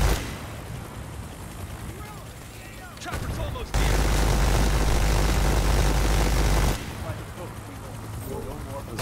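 Helicopter arriving in the video game Predator: Hunting Grounds: a loud, steady rotor-and-engine roar fills the middle few seconds amid gunfire-like game noise, with players talking before and after.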